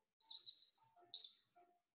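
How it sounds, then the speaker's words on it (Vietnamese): A parrot gives two sharp, high-pitched chirps, each a bright squeaky burst followed by a short tail, clear and close against a quiet background. "Con vẹt."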